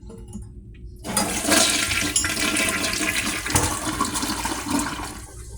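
A toilet flushing in a pizzeria men's restroom, starting abruptly after a second of quiet with a loud, close rush of water that keeps roaring steadily before easing toward the end.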